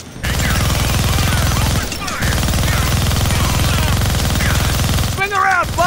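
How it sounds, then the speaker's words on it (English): A minigun in the Deadpool video game fires a steady, loud, rapid stream of shots that breaks off briefly partway through, with game voices talking over the gunfire. "Gonna need both hands to shoot that minigun."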